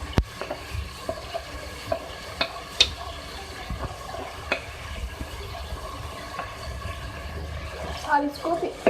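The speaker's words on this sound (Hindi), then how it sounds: "और इसको फ्राई करेंगे इसके साथ।" Ginger-garlic paste frying with chicken in a pot gives a low, steady sizzle, broken by frequent scraping and tapping as a spoon stirs it, close and moderately quiet.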